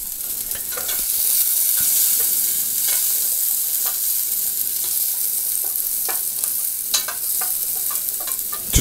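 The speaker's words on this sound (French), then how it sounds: "C'est vraiment les tourner dans l'huile d'olive et le jus de caille." Quail pieces sizzle steadily in olive oil and their own juices with small vegetables, a close, loud hiss with scattered scraping and stirring clicks as the pieces are turned, and no talk.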